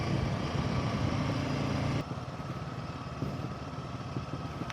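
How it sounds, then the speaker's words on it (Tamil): A motorcycle exhaust silencer thumps with a steady low rumble on a ride through hairpin bends, close and continuous, a little quieter after the first two seconds. "டப்பு டப்பு டப்பு டப்புன்னு அடிக்குது சைலன்சர்."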